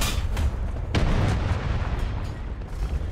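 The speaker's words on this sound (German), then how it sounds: "Ich werf Artillerie" Artillery strike in the tank combat game War Thunder, heard as several dull, distant booms and low rumbling impacts spread over a few seconds against steady background noise, with no voices.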